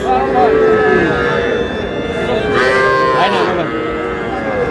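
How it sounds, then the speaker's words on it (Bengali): A young bull calf at a Comilla cattle farm moos loudly and close by, its low drawn-out calls rising over a noisy crowd of people talking. "ষাঁড় বাচ্চা ক্রস"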